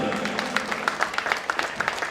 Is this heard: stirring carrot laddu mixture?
no